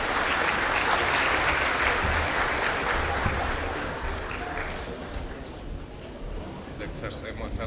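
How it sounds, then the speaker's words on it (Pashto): A crowd at an Afghan independence anniversary gathering in Melbourne applauds loudly in honour of a guest doctor. The heavy clapping is strong at first and eases to a softer, thinner patter about halfway through, with crowd noise underneath. "دوستانو د ښاغلي ډاکټر صاحب خالدي په افتخار چکچک"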